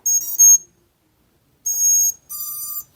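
An FPV drone that has been waterproofed gives out high electronic beeps as its battery is plugged in. There is one short double beep, a pause, then two longer tones, all close and clear against silence.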